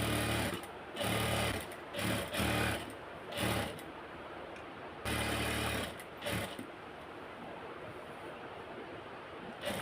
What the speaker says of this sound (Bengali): এখন এই কাপড়টার সাথে আমি এটা সুন্দর করে সেলাই করে সেট করে নিব।